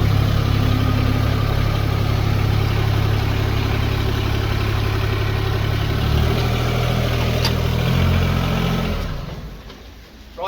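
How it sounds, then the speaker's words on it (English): A Branson 1905 tractor engine runs at a steady, loud, low idle for most of the stretch, then drops away sharply near the end. "We can restart the tractor."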